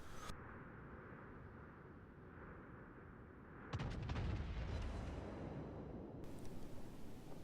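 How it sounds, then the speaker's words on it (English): Naval guns firing shells in the World of Warships game, a German cruiser Nürnberg's battery booming in a heavy salvo that rumbles on over a steady low hum of battle noise. "So I'm firing quite a few shells, but I'm not really getting any hits, any damage."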